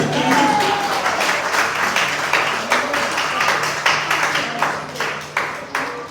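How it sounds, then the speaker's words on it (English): Wedding guests give a round of applause during the groom's speech, a moderate spread of hand claps with a few sharp individual claps standing out, a faint low hum underneath. "Give him a round of applause, go on."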